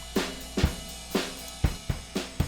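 Drums play a steady beat, with regular kick and snare hits around twice a second and a bright wash above them.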